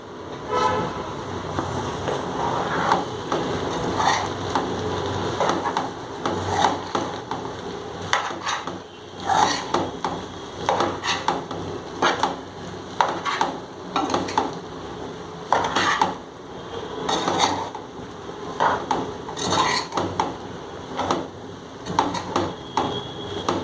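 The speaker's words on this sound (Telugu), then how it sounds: "ఇప్పుడు ఇదంతా మిక్స్ చేసుకుందాం చక్కగా." Chicken fried rice being stirred and tossed in a pan, with steady scraping and clinking of a utensil against metal, continuous and close, with no talk over it.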